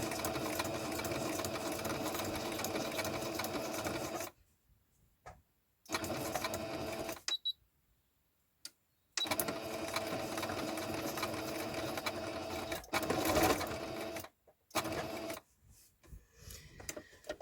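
A sewing machine stitches paper lace for a junk journal, running in a steady, loud mechanical whir with several short pauses and restarts, no talking.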